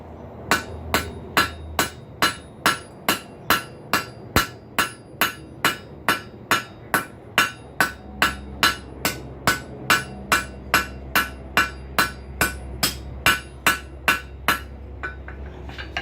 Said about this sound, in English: I'm going to take this cross peen